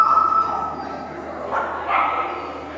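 A small dog yips and whimpers in short bursts close by, with a person talking to it in between.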